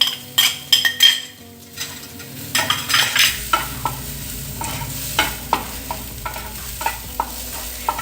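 Tomatoes for a bread snack cooking in a pan while being stirred, a close sizzle under repeated clinking and scraping of a spoon against the pan, with a few sharper knocks early on and no talking.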